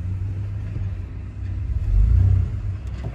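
A Ford F250 pickup truck with a V6 engine pulls away in first gear on a hill, its engine rumbling low and close. It swells louder midway as it strains forward, with no talk.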